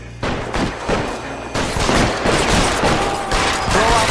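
Rapid gunfire from a shootout in the video game L.A. Noire, loud bursts of overlapping shots crackling continuously after a brief quiet start, with no talk over them.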